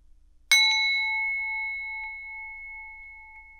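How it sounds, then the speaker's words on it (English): A meditation gong struck once: a sharp metallic attack followed by a clear ringing tone with bright overtones that fades slowly and evenly in an otherwise silent room. "Finally, Grandfather rang the gong to end the meditation."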